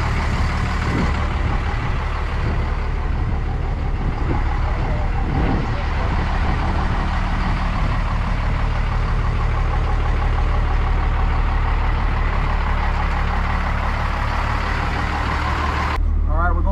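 A first-generation Cummins 12-valve diesel truck idling, a loud, steady low rumble with a mechanical clatter that holds throughout, with voices talking faintly over it.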